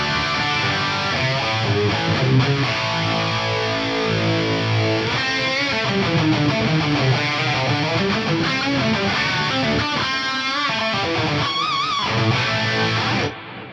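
Distorted electric guitar reamped through an Axe-Fx III, playing loud, continuous chords and riffs with rich sustain that cut off abruptly at the end.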